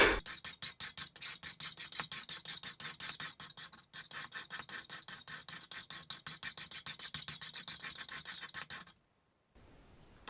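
A kitchen knife blade is drawn back and forth across a Sharp Pebble diamond sharpening plate in quick, even rasping strokes, dozens in a steady rhythm, close and fairly loud, stopping abruptly near the end.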